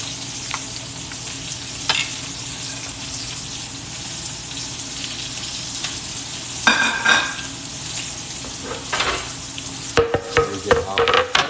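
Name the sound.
steak searing and sizzling in a pan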